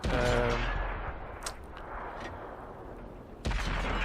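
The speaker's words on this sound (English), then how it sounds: "My shooting could have been a little bit more effective there, but I do get a good few rounds into him." A T69 tank gun fires in a video game battle on desert dunes, with a loud initial blast followed by a decaying rumble and a second sharp shot near the end.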